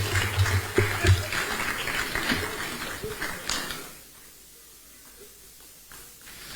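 Applause from an audience for the President of Ghana, a broad wash of clapping that fills the first few seconds and then fades to near quiet, with brief voice fragments mixed in.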